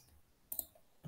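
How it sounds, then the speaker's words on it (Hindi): A single mouse click on the run button of a code editor during a programming lesson, a faint, quick double tick on its own with no talk. "इनपुट लिखने के बाद रन बटन पे क्लिक करो"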